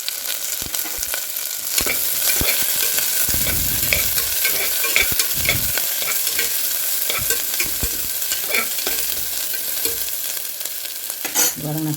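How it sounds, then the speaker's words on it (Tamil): Onion, garlic, ginger, green chili and curry leaves sauté in a pan for nombu kanji, a constant close sizzle broken by frequent scraping stirs of a spoon. "எல்லாம் சேர்த்து நல்லா வதக்கிக்கலாம்."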